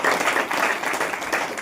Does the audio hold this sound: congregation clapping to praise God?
yes